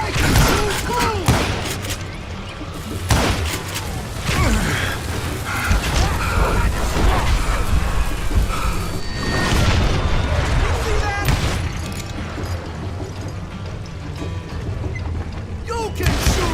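Rapid volleys of gunshots and booming blasts from the Call of Juarez Gunslinger video game, loud and dense, with brief pauses between bursts and a steady rumbling backdrop.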